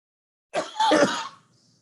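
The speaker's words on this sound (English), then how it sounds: "Sorry for the coughing" A single short throat-clearing cough, close and moderately loud, after a moment of silence and followed by quiet.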